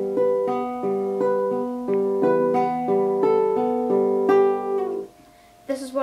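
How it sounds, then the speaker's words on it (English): Nylon-string acoustic guitar played fingerstyle, plucking clear individual notes in a steady, gentle melodic pattern, close and solo, ringing out before fading to near silence at the end. "This is a nylon acoustic guitar, and it sounds like this when it's finger picked."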